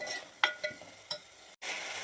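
A garlic, ginger and coriander paste roasts in a pan with a faint, quiet sizzle, broken by a few light clicks and scrapes of stirring, then a brief pause before the hiss returns.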